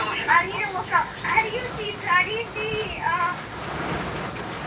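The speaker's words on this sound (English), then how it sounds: "it's raining heavily, if you guys can hear it" Heavy rain falling in the heist game Payday 2, a steady broadband wash running under someone talking throughout.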